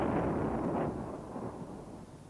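An LPG pressure vessel failing in a BLEVE, a boiling liquid expanding vapour explosion: a loud, deep rolling roar that dominates throughout, easing slightly after the first second, with no voices.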